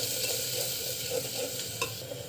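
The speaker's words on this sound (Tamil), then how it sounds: "ஸோ நல்லா வந்து இப்படி கலக்கிட்டுக்கோங்க" Ground masala paste in a pan being stirred, a continuous close sizzle with soft rhythmic scraping and one brief sharper knock near the end.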